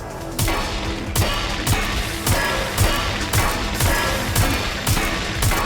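Gunfire in the video game Watch Dogs Legion, a steady rhythm of sharp loud shots about every half second, each with a hard low thump, continuing throughout with no talking.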